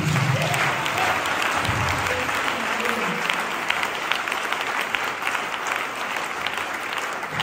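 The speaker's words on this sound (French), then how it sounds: "Acclamez pour la gloire." A church congregation applauds during a sermon, a loud, dense and sustained clapping that fills the room evenly from start to finish.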